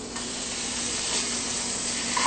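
Butter sizzles steadily in a hot pan on a college cooking setup, a continuous close hiss and crackle with no voices over it.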